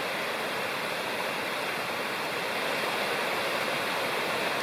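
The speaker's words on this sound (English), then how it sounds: "there's Upper Ball River Falls, or Alexander Falls." Upper Bald River Falls, also called Alexander Falls, pours steadily in a wilderness river gorge, a loud, continuous broadband roar of falling water heard close up, with no voices.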